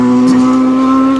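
Nigel Mansell's GP Masters race car on a 2006 qualifying lap at Silverstone, a loud sustained engine drone with a steady high-pitched whine, holding constant revs throughout with no talk.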